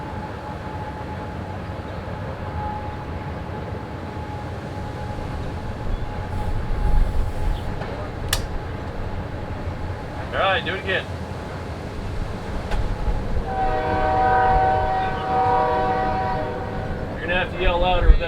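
A train rumbles past nearby with a horn sounding, while people talk over the noise.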